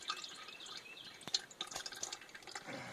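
Slow dripping from a 1997 GMC Sonoma truck, a run of faint, irregular drips and small liquid plinks, close by and quiet, with no talking.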